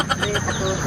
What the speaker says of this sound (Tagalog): Yan po yung tinatawag nating Rhode Island Red.